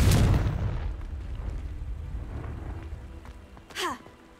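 Confringo blasting spell in Hogwarts Legacy: a loud explosive boom at the start that decays into a long low rumble, followed near the end by a short rising magical whoosh, with no talk.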